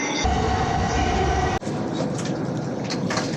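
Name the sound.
Shinkansen bullet train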